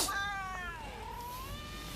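A cat gives one drawn-out meow that slides down and back up in pitch, close and fairly clear, with no talking.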